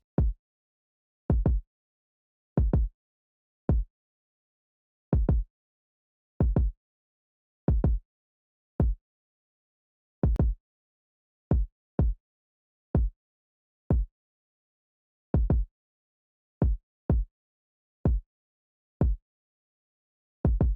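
Two alternating kick drum patterns in a hip-hop beat play alone, punchy deep thumps landing in pairs and singles with clean silence between them, shifting rhythm across the bar.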